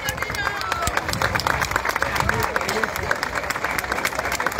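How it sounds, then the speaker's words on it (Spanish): Crowd applause at an outdoor award ceremony for a stage of the 2024 Vuelta Ciclista del Uruguay in Melo; dense continuous clapping with crowd chatter and a voice over a loudspeaker. "A ver ese aplauso, vamos,"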